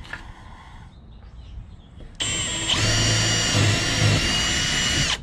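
A power drill with a quarter-inch bit bores a hole while a wheel chock tie-down system is fitted to a trailer, a loud steady whirring grind that starts partway through and runs continuously to the end.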